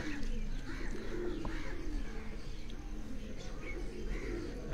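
Kashmiri pigeons coo repeatedly in soft, rolling calls on a rooftop over a steady background hum, with faint chirps scattered throughout.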